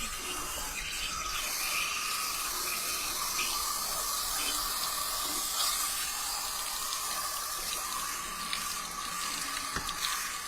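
Water and sediment flush out of an RV water heater through an opened valve, a steady, loud rushing hiss of running water that continues unbroken throughout, with no talking.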